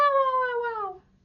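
A single drawn-out cat howl, loud and close, with a wavering pitch that slides downward before cutting off into quiet.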